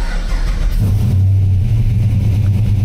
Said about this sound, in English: we're gonna let it warm up a touch and then do some part throttle stuff